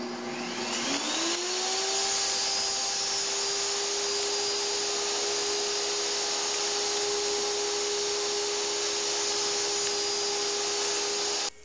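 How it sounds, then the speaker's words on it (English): Table saw nibbling through a wooden workpiece: a loud, steady high-pitched motor whine spins up and holds for about eleven seconds, then cuts off abruptly at the end. "I'm just going to nibble through this with the table saw"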